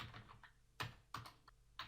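Quiet close keystrokes on a computer keyboard while entering ASP.NET code, a handful of separate taps with short pauses between them.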